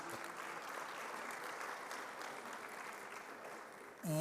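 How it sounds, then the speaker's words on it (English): A conference audience in Bloemfontein gives a round of applause for a professor. The clapping is soft and distant, steady for about four seconds, and a voice starts speaking at the very end. "Another round of applause for him, please"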